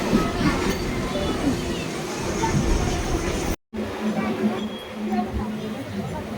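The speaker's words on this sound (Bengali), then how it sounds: "তারপরেই আমাদের ট্রেনটা ঢুকে গেল" A train pulling into a station, a continuous rumble and rattle of carriages with a brief dropout partway, while voices can be heard over it.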